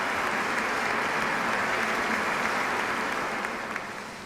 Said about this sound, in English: Let us welcome everyone once again with a warm round of applause.